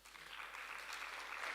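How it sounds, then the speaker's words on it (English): A faint, distant round of applause in a hall at a Limpopo ceremony, soft continuous clapping that builds slightly over a second and a half. "I would actually invite a much more energetic round of applause this time around"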